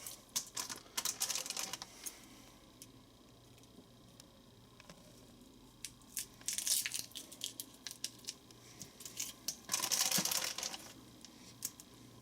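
Hand-held shrimp-cleaning tool crunching through the shells of a batch of shrimp, with bursts of crackly, crisp snapping and squishing in clusters at close range, separated by quieter pauses.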